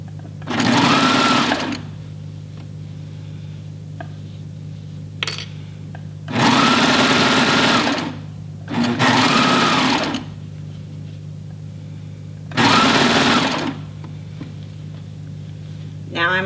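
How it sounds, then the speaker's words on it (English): A home sewing machine stitches a hoodie sleeve seam in three loud bursts of rapid needle chatter. A steady motor hum fills the quiet gaps between bursts. "And I'm gonna sew to this middle point where the clip is."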